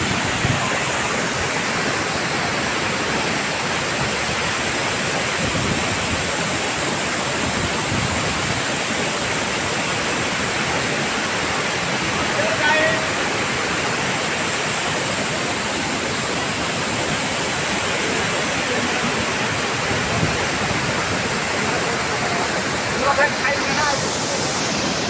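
Tirathgarh waterfall roaring as a steady, dense rush of falling water that fills the scene close by and never lets up.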